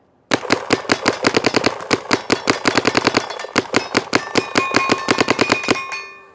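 Rapid bursts of gunfire ring out through a Carbon CRBN Nano barrel partly plugged with micro holes, dozens of sharp, close shots in a fast, steady rhythm with a metallic clang and ringing overtones trailing behind.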